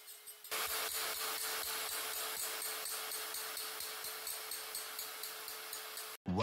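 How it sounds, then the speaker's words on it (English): A carbide burr textures a surface in a rapid series of short rasping strokes, close and fairly loud, with a steady whine underneath, then stops abruptly near the end. "For better light scattering, I make a texture with a carbide burr."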